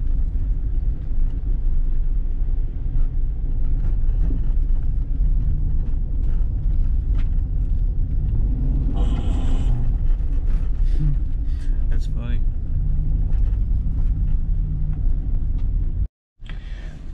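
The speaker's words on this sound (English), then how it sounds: "It definitely rides like a Cadillac. If I come down this in my truck, you're bouncing all over the place." Steady low rumble inside a Cadillac Escalade cabin moving over rough road, smooth road noise with occasional soft knocks and rattles, ending in a brief cut.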